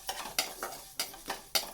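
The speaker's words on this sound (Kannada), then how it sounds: "ಇದಕ್ಕೆ ಎರಡು ಸ್ಪೂನ್ ಜೀರಿಗೆ ಒಂದು ಅರ್ಧ ಸ್ಪೂನ್ ಟೇಬಲ್ ಸ್ಪೂನಷ್ಟು ಮೆಂತ್ಯ ಹಾಕ್ಕೊಂಡು ಹುರ್ಕೊತಾ ಇದ್ದೀನಿ" Cumin and fenugreek seeds dry-roasting in a pan for raw mango red chutney rattle and scrape under a spoon in several quick strokes, with a light sizzle beneath, close and fairly quiet.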